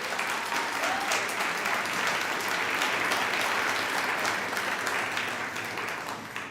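Sustained applause from an audience for a singer at a 2022 apology event, a steady dense wash of clapping throughout that fades slightly at the end.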